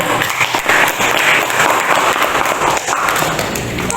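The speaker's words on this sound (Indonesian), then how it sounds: "tepuk tangan dulu untuk kelompok 2" Classroom applause for a student group, a dense burst of clapping from a roomful of pupils that stays loud and steady with a few thumps mixed in.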